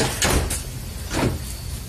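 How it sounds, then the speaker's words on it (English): Ford car door being opened, a couple of short mechanical clunks and latch clicks, close and fairly loud, with no talk. "to test it, you open the door"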